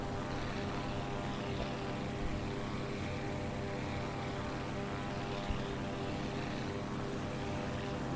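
A single-engine propeller plane cruises in a flight simulator game on a route from Jonesboro, Arkansas to Ripley, Tennessee, its steady droning hum filling the cabin evenly and continuously with no one talking.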